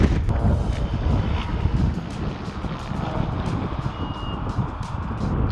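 Strong wind roars and buffets the microphone continuously, a loud rushing noise with gusty low thumps throughout.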